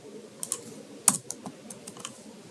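Code being typed on a computer keyboard, a short run of light, irregular key clicks heard up close, with one sharper tap partway through and no voices.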